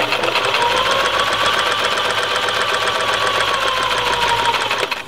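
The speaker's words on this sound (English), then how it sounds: "We're gonna bring it to the sewing machine" A sewing machine stitches quilt fabric steadily and loudly for several seconds, its rapid mechanical stitching whir continuous before stopping abruptly at the end.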